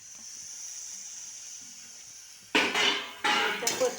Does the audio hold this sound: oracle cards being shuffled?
no